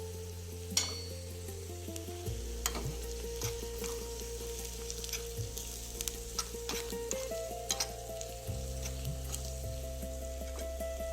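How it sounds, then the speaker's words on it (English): Tamarind, turmeric, hing, salt and chili powder are stirred together in a pan. Gentle sizzling and scattered utensil taps and scrapes sit under steady background music. "Mix all the ingredients in the pan, as this will coat all the ingredients"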